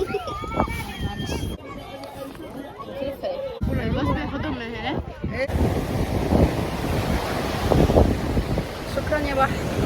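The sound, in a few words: sea waves and wind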